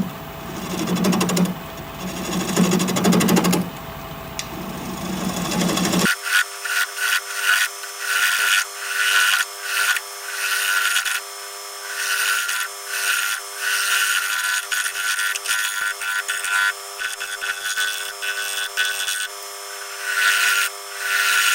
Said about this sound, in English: We're going to be turning at 750 RPM, 1/2 inch ball gouge,